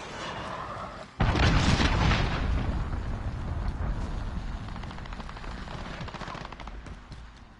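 A cruise missile strike explodes in a Call of Duty: Modern Warfare multiplayer match, a sudden loud blast followed by a long rumbling roar that slowly fades amid distant gunfire.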